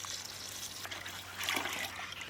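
Water trickling and pouring onto a kilo of soaking basmati rice in an outdoor village kitchen, a faint, steady dribble swelling briefly near the middle, no talking.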